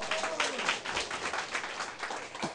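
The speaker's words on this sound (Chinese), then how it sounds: "大家家己鼓掌一下" A seminar audience claps for itself at a closing session, a soft, dense patter of many hands, fairly quiet and continuous, with no clear voice over it.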